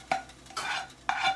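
Vegan special fried rice stirred in a pan, three scraping strokes of a utensil against the metal with a light sizzle underneath, close and fairly loud.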